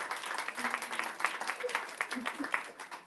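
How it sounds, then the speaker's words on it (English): Wedding guests at a Vedic ceremony in a New York temple clap for the family, a quiet, uneven patter of scattered hands with soft voices and cheers mixed in. "Big round of applause for all the family members."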